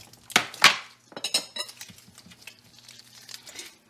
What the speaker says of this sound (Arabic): أول إطار هو غادي نسخن المقلة